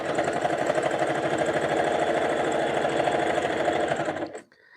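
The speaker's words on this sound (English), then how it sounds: "You're going to notice when you're sewing these tubes as well that some colors are just easier to sew." A sewing machine stitching jelly roll fabric tubes runs in a fast, steady mechanical whir with a rhythmic rattle, close and continuous before stopping abruptly near the end.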